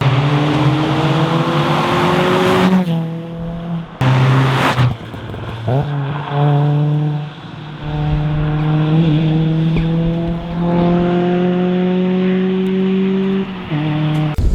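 A race car engine screams at high revs on a track day, shifting gears as it blasts past, its pitch climbing and dropping through several loud passes.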